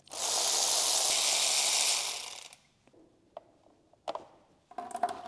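Removal of the oil filter on a VW Phaeton W12 engine: a loud hissing spray of oil runs for about two seconds and stops abruptly, followed by a few sharp metallic clicks and taps from the filter and tools.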